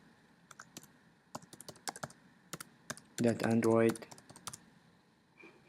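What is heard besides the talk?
typing a folder name on a computer keyboard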